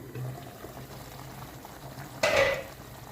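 A pepper chicken roast simmers in a pan over high flame as its water boils off, a soft steady bubbling and hiss that swells into a brief louder sizzle.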